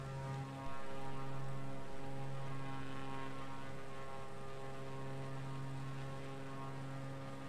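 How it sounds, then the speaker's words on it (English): A small bush plane's propeller engine drones steadily and loudly in flight, a constant harmonic hum with no pauses, heard from close by inside or near the aircraft, with no voices. "one of my favorite little bush planes"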